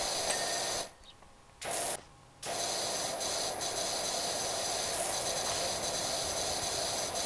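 A pressure washer with a green nozzle sprays steadily in PowerWash Simulator, a constant hissing rush that cuts out briefly twice near the start before resuming.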